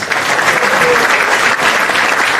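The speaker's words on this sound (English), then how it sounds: "Please give a round of applause." A temple audience at a Sri Narasimha Jayanti celebration gives a round of applause, a loud, dense and even burst of clapping that carries on steadily throughout.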